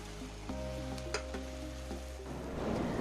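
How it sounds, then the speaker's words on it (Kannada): Potato balls for Aloo 65 frying in hot oil, giving a steady low sizzle with light bubbling crackle that builds toward the end, close and fairly quiet, with no voices. "ಉಂಡೆ ಎಲ್ಲ ಮಾಡಾದ್ಮೇಲೆ ಕಾಯ್ದಿರೋ ಅಂಥ ಎಣ್ಣೆಗೆ ಆ ಉಂಡೆಗಳನ್ನ ಹಾಕ್ತಾ ಹೋಗೋಣ"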